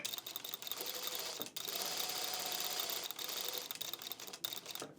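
A Juki industrial sewing machine stitches in fast, even bursts of mechanical chatter, stopping briefly between runs, with the reverse lever used to shorten the stitch length on a curve; the sound is close and fairly quiet, with no talking.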